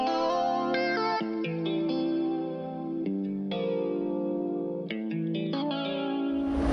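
Trap guitar loop from FL Cloud played in FL Studio: a sustained, chorus-washed and slightly distorted guitar with chord changes and plucked accents, steady and moderately loud, with no voices.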